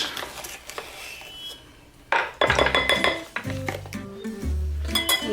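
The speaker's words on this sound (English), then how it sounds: "And give that a whisk." A sauce of sesame oil, ginger and cornstarch whisked in a bowl, with rapid clinking and tapping of metal against the dish, irregular and fairly close, among other kitchen clatter.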